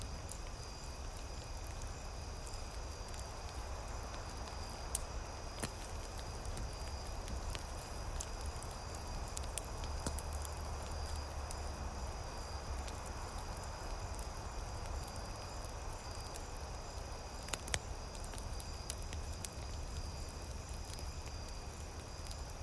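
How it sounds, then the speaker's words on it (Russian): A campfire burns with faint, steady crackling and occasional small pops over a soft, even hiss. "в то время как вы слышите звуки костра"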